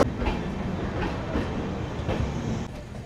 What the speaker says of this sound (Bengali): ট্রেন ছেড়ে দিচ্ছে এখন এখান থেকে